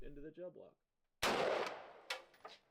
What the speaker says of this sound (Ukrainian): З цього куля має вийти набагато швидше і нанести більше шкоди гелю.